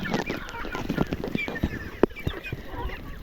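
Chickens cluck in short, busy bursts, close by, with a sharp squawk midway and some honking mixed into the steady village farmyard chatter, as a woman brings them and ducklings feed.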